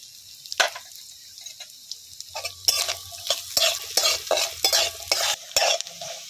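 Grated coconut frying in a pan with turmeric and salt while a spatula stirs it, giving soft sizzling under repeated scraping strokes and a few sharp clinks against the metal, with no voices.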